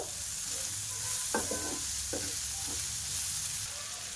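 Green chillies tossed into spicy vermicelli with cabbage sizzling in a pan, a constant close hiss of frying broken by a few scraping stirs, with no talking.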